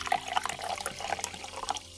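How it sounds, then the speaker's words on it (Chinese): Water is poured into a cup at home, a close, bubbling trickle with small splashy spikes that lasts about two seconds before tailing off. "往杯子里倒水"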